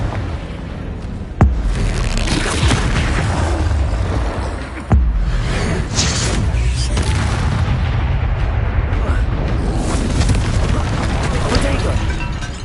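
Confringo fire spell blasts in Hogwarts Legacy during a troll fight, with sharp explosive booms at intervals over dense game noise and combat sounds.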